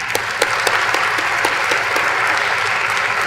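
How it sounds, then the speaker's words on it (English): Audience at a chamber of commerce awards lunch breaks into applause, a loud, full wash of many hands clapping with a few sharper claps standing out near the start, sustained evenly throughout. "I would really like to ask all of you to give them all a round of applause."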